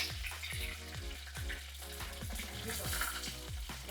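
Dried red chillies fry in oil for pepper chicken, giving a quiet, continuous sizzle with light crackling, heard close but faint.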